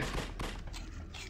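Gunfire in the horror action game The Suffering: Ties That Bind, heard as several quick, loud shot bursts in rapid succession against dense background noise.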